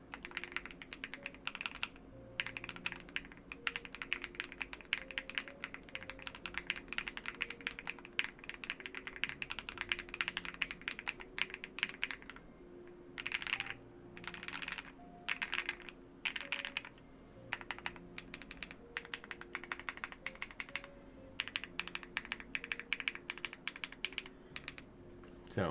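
Rapid, steady typing on an Epomaker Tide Alice keyboard fitted with Creamy Jade switches, a dense run of close, crisp keystrokes with brief pauses, no voices.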